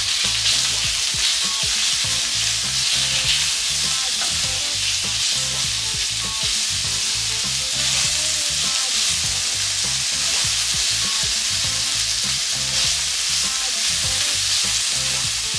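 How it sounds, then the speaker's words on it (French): Beef fries hard in hot oil and is stirred for Mauritian fried rice, a loud, steady, close sizzle with constant crackling and scraping stirring sounds throughout and no talking. "Je mets le bœuf. Je vais cuire un peu là."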